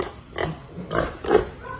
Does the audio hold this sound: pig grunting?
yes